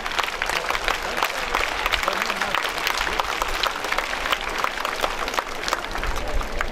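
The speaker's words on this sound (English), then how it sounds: "Scout and guide claps, go." Schoolchildren's scout and guide clapping at a National Unity Day school event, a loud, dense crowd of hands clapping steadily and continuously, with some voices in the crowd.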